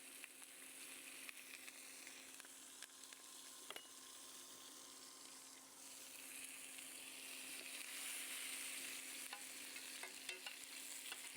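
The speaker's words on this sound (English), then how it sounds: "Let me get my butter mixed in here. Let it get nice and foamy." Butter foams and sizzles in a pan with garlic while steak au poivre cooks, giving a steady, fairly quiet frying hiss with small crackles and a few stirring clicks.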